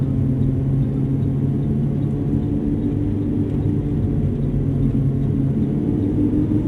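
A Lamborghini Aventador on a race track gives a loud, continuous, low engine rumble heard from inside the car, with steady drone and no clear separate shift event.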